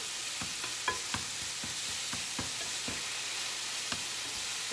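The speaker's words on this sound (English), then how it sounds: "Then you just let that finish browning until it's no longer pink." Taco meat sizzles as it browns in a pan, a steady hiss of frying broken by light scraping taps from stirring, close and alone without talk.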